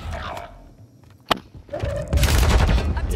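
Incoming gunfire in Call of Duty Warzone on Rebirth Island: a sharp single crack, then a dense rattling burst of shots close by, with faint game noise in between.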